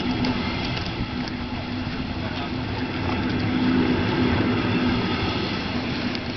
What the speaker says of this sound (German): Der Zug.